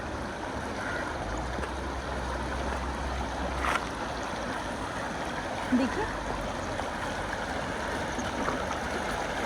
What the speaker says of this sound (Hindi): यहाँ देख रही तो बड़ी प्यारी सी रिवर बह रही है और बहुत लंबे से आ रही है